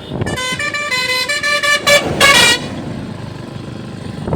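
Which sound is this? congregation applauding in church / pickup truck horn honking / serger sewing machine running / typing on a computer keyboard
pickup truck horn honking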